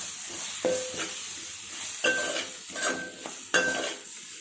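Spoon stirring ginger-garlic paste with garam masala and biryani masala in a pan for egg biryani, with a few sharp metallic scrapes and clinks over a soft steady sizzle, close and alone.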